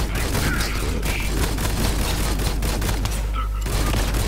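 Enemy gunfire in the video game Borderlands 3, a dense continuous barrage of shots with booms, loud and unbroken apart from a brief dip near the end.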